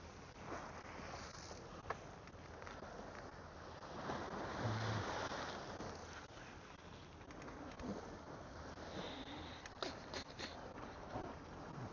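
Faint ocean waves wash steadily along a coastline, blended with a soft rush of wind and a few brief bird calls in the distance.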